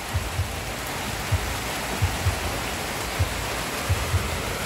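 Steady rain falls outdoors as a continuous even hiss, with occasional soft low thumps scattered through it and no voices.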